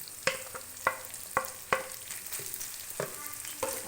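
Tender mutton roasts in a pan with masala and tomato, a quiet sizzle broken by about eight sharp scraping or tapping strokes at uneven intervals, with no voices.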